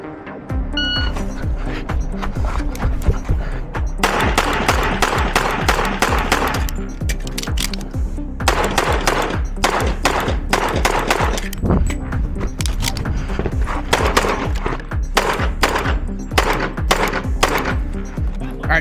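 Pistol shots ring out during a stage of an IDPA defensive pistol match, sharp reports fired in rapid strings and clusters. A few short electronic beeps are heard along with them.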